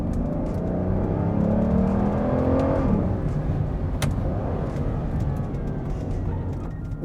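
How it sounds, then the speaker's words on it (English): An Aston Martin DB9 engine revs up hard after a paddle downshift, its rising growl building for about three seconds before easing into a steady, fading whir as the car pulls away, with a sharp click midway. "you pull the paddle, you take 2 gears down, and you floor it"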